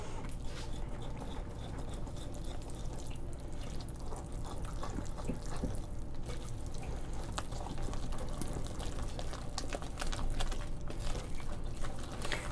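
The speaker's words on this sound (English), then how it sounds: "here my waffle maker over here popping, getting ready to cook some more waffles" A waffle maker heats up with steady crackling and popping, close by and constant, with a faint watery sizzle and no talking.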